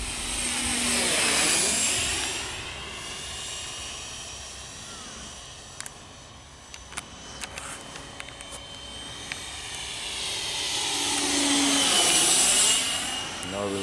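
Taft Hobby Viper Jet V3 90mm EDF model jet, 1.5 m span on 6S power, whooshes past twice with a rising and falling ducted-fan whine, loud at each pass and fainter in between, with light clicks and a faint voice.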